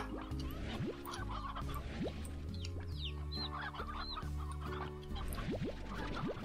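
Chickens cluck in a Slime Rancher ranch, several birds chattering in bursts over a dense, busy game soundtrack with steady music and effects throughout.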